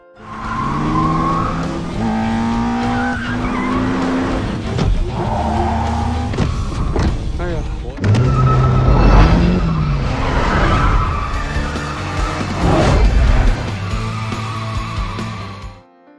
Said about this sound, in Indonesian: mereka pun mengadakan tes balap antara Siohai melawan Yukyang.